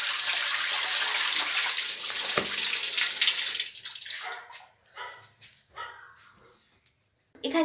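Tap water runs steadily over new potatoes being washed for a few seconds, then cuts off, leaving scattered knocks and clatter in a quieter room.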